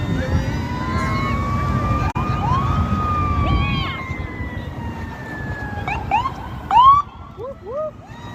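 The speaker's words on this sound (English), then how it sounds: "There's the ambulance." An ambulance siren passes close by, its wailing tone sweeping up and down with sharp yelp bursts toward the end, loud over road noise.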